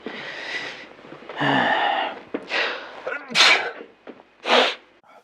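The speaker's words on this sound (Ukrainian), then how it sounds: "А ви знали, що в момент чхання всі функції організму зупиняються, навіть серце." A person gives a loud, close sneeze followed by sharp snorting breaths and a couple of shorter sneeze bursts, alone without talk.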